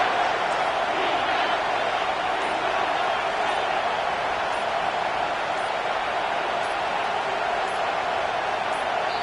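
Loud, steady roar of a football stadium crowd on third down, a dense unbroken wall of noise with no pauses and no clear voices standing out.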